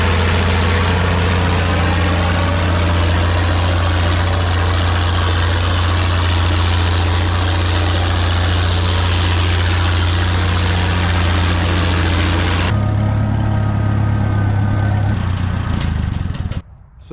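A heavy tractor engine idles loudly with a deep, steady rumble, shifting pitch partway through and cutting off near the end.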